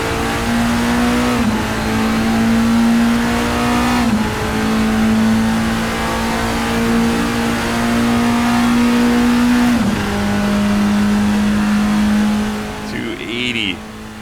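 A Toyota TS020 race car engine in a racing video game, a loud sustained roar with a high whine that holds steady through several gear changes, and a voice talking over it.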